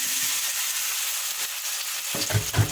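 Eggplant sizzles and fries loudly in a hot pot for a Jamaican stir fry, a constant crackling hiss close by, with a few soft clunks of stirring near the end and no talking.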